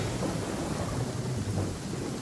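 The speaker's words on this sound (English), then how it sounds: "Taking a stroll in the middle of a downpour certainly rouses the spirit." A Genshin Impact thunderstorm plays as a dense, steady roar of heavy downpour with deep rumbling thunder underneath, constant and enveloping throughout, with no voices.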